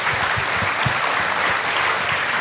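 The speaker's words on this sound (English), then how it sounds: "Could you please put your hands together for all of our panellists tonight?" A pub audience at an election-night politics panel applauds the debate panellists, steady dense clapping from many hands that holds evenly throughout.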